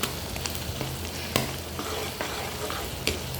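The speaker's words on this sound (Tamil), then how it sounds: "இப்போ சிக்கன் நல்லா பொரிஞ்சிருச்சு. இது கூட இஞ்சி பூண்டு பேஸ்ட் சேர்த்துக்குவோம்" Chicken fries in a pan as ginger garlic paste is stirred in, making a constant loud sizzle broken by scraping, knocking strokes of a spoon at an uneven pace.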